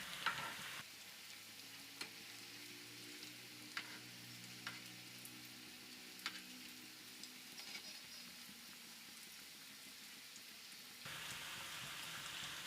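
Leftover rice vada sizzling in hot oil in a pan, a steady crackling fry with scattered pops and occasional stirring clinks, fairly close and moderate in level, with no voices.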